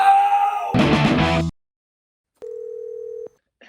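An electronic call-system tone sounds on a phone line, a single steady pure beep lasting under a second after a brief burst of music and a silent gap.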